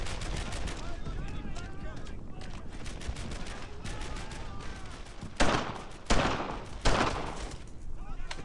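Bursts of covering gunfire in the World War II shooter Brothers In Arms: Earned In Blood, with rapid rifle and machine-gun rattle throughout. Louder close shots punch through near the end, and voices shout over the battle.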